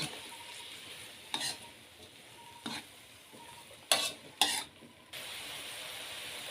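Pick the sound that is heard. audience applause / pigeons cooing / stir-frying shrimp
stir-frying shrimp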